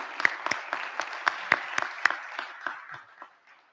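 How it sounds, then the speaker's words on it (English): A small audience at a community advocacy gathering gives a modest round of applause, a dozen or so distinct claps in a steady patter, fairly faint and tapering off toward the end. "Another round of applause for our work together to make this happen."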